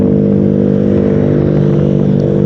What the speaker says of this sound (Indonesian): Untuk knalpot, motor ini udah menggunakan knalpot racing tanpa merek.